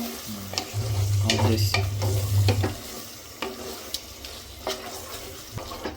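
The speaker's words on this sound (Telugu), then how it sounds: "కొంచెం పెరుగు వేసుకుందాం ఒకసారి కలిపేసుకుందాం" Yogurt stirred into chicken biryani masala in a pan: a low rumble early on, then scattered scraping strokes of a spoon against the pan over a faint sizzle, close up with no talking.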